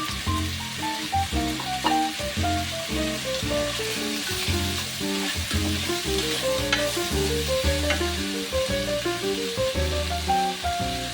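Potatoes and carrots for igado sizzle steadily in a hot pan as they are stirred, with a continuous frying hiss under a melodic backing tune.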